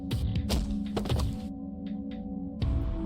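A body drops onto cold ground in a yandere dating game, giving a heavy, near thunk with a crackling edge, then faint scattered clicks and a second muffled impact near the end.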